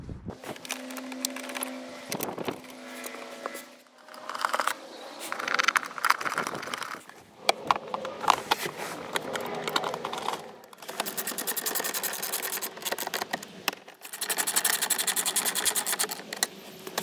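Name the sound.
power tool bolting console on 2004 Toyota 4Runner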